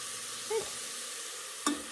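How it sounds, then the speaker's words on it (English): Chili seasoning being stirred into browned ground meat that sizzles in a pan, with a steady hiss and two brief scraping strokes of the spoon, close and fairly quiet. "I'm going to mix that up really well, just like this."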